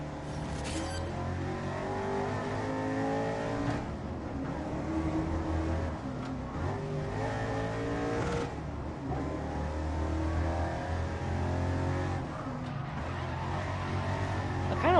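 A Camaro's engine revs in a racing and drifting video game, a loud, continuous throaty drone whose pitch rises and falls as the car accelerates and shifts, steady throughout with no talk.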